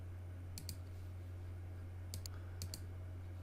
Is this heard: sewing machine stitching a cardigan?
no